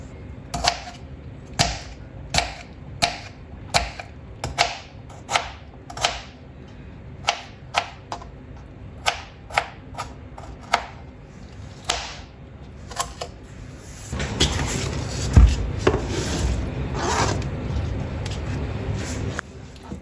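A knife chops through a tomato on a cutting board in a kitchen where clay cookware is in use, with sharp, evenly spaced taps in a steady rhythm, then a louder, busier stretch of handling near the end.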